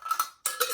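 A lid is set onto a jar of loose herbal tea blend, giving two quick clusters of bright, ringing clinks separated by a short pause, close and fairly quiet.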